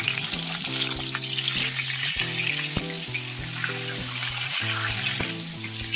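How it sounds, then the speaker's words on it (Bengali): Pointed gourd frying in white oil in a kadai, a bright steady crackling sizzle heard up close, with a recurring tonal hum running beneath it. "প্রথমে আমি পটলটা ভেজে নেব"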